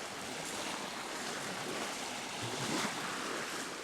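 A steady wash of waves rolling over a cobble beach at sunset, a broad, even hiss with a slightly stronger surge near the end, no voices.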